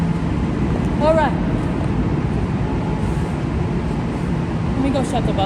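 A Keolis transit bus engine idles in Reno with a steady, low, continuous rumble, with a couple of faint squeaky chirps drifting in over it.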